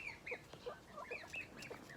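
Chickens being fed broken bread and biscuits give faint, scattered clucks and short calls from several birds, quiet and a little distant, with no talking.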